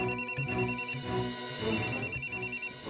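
A mobile phone ringtone plays close by, a bright repeating electronic melody pulsing in short rhythmic bursts, with no one speaking.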